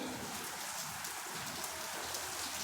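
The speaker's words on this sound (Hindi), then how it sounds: "बच्चों बारिश की आवाज़ आ रही है क्या आपको?" Rain falls outside in a steady, even hiss of drops on surfaces, continuous and moderately loud, with no talking over it.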